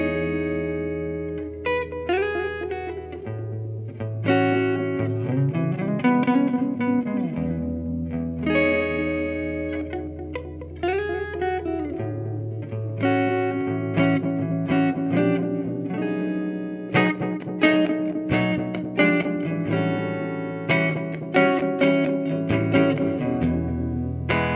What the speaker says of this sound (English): That's the Dan Echo, and I think that's a pretty sweet sounding echo